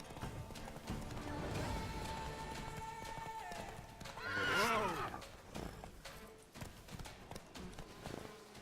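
Roach, the horse in The Witcher 3, gallops with steady clip-clop hoofbeats and lets out a loud, shrill whinny partway through, up close, with a voice speaking faintly in the background.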